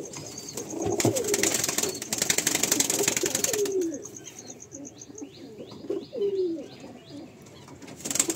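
Female pigeons in a home loft coo in short, repeated low calls, with rustling and chirps around them and a broadband burst early on.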